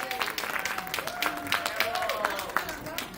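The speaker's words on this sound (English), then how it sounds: "Clap for her again." Applause and clapping from a meeting audience for a union local president, steady and moderately loud throughout, with chatter and voices mixed into the crowd noise.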